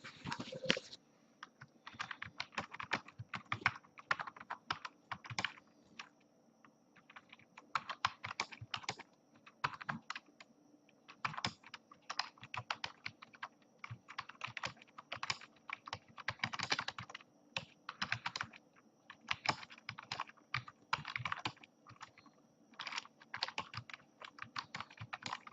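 Keys clatter steadily on a computer keyboard during typing in MS Word, a quick irregular stream of close, crisp clicks with brief pauses, no talking.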